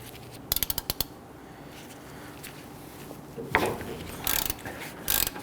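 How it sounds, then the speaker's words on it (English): A ratchet works loose the 17mm brake caliper bracket bolts on a 2011-2015 Kia Sorento front brake, giving a quick burst of sharp metallic clicks, then scattered clinks and tool handling noises close by. "Remove these two 17mm bolts here."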